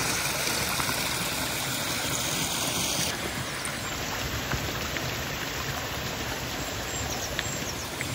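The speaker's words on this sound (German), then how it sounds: "Dann fließt auch durch den Campingplatz ein Bach." Stream flowing through a campsite in the Emmental, Switzerland, a steady broadband rush of running water that stays constant throughout, with no voices.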